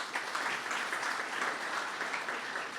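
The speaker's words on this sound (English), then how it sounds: "Thank you for all the claps, it's great" Applause from an audience at a permanent supportive housing ribbon-cutting ceremony in North Hollywood, a steady, dense patter of many hands clapping alone, evenly sustained without pauses.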